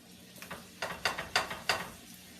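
Meat patties hiss and spit in a hot frying pan with olive oil, a series of sharp sizzling bursts arriving in quick succession, close by.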